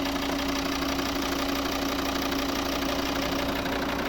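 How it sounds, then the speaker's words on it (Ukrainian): A 2.0-litre five-cylinder diesel engine in a 2011 Volvo V50 idles steadily with a rough, knocking rumble and a constant hum, close up, with no talking. "Ось ну, робота двигуна."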